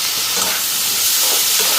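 Food sizzles and fries steadily in a pan with turmeric and salt, a continuous close hiss of hot oil with no breaks and no voices.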